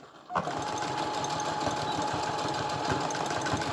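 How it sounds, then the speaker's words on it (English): Close, loud sewing machine back stitching patio cushion fabric: after a brief quiet moment the motor starts and runs in a steady, rapid mechanical whir with a fast needle rhythm to the end. "So we'll take a couple of stitches, and then we will back stitch."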